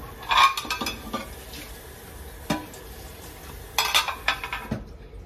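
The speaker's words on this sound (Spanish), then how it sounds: "Déjenme enjuagar estos platos." Plates are rinsed in a home kitchen, with sharp clinks and clatters of dishes and cutlery in scattered bursts over a low background wash.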